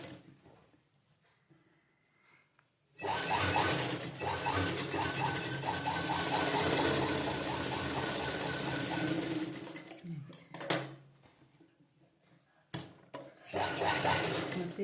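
An electric sewing machine stitches the fabric and lining of a round-neck blouse, with a loud steady whir that starts after a quiet few seconds and then runs in long bursts, briefly pausing and restarting near the end.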